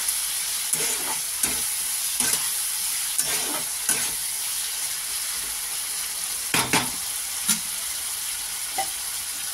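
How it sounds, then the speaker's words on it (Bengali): Potato and pointed gourd pieces fry in a pan with salt and turmeric, a steady close sizzle punctuated by intermittent spatula scrapes and stirring knocks, no voices. "ভাজা ভাজা করে নিই।"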